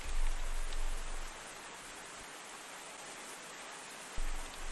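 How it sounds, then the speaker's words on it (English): Rain falls as a soft, steady hiss in the RPG Maker game The Light of Summer. It stays faint and continuous, with brief low thumps near the start and end. "I hear like running water, I don't know why."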